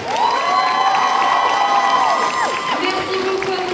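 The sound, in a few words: audience applauding and cheering at cosplay contest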